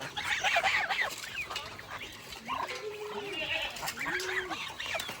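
Farm poultry, a turkey among them, calling in a yard with a few gobbling, warbling cries standing out over clucking fowl and a busy livestock background, fairly close and moderately loud.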